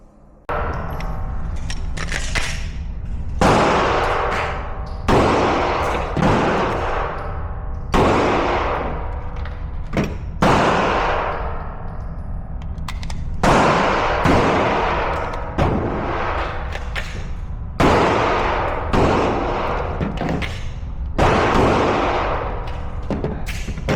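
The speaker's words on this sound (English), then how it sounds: "Let's go to the range. Let's shoot something, and let's get our reps up." Gunfire at an outdoor shooting range during training, loud sharp shots repeating in spaced volleys and pairs across the whole stretch, each ringing out briefly before the next.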